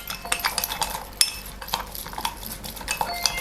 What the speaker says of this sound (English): I'll just use the spoon to stir it to make sure that my sugar will be dissolved